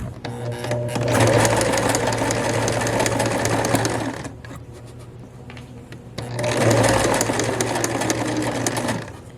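A sewing machine stitches along a garment seam and finishes with a back stitch, running in two long steady bursts with a quieter pause between them, close and loud.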